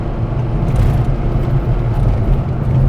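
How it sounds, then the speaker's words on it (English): A car with drum brakes all round downshifts to third with a rev-matching blip, heard as a loud, steady low engine and road rumble from inside the cabin. "Little rev match down to third."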